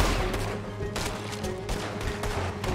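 Gunfire in Red Dead Redemption 2, a few sharp shots spaced about a second apart, heard over a steady low in-game background rumble.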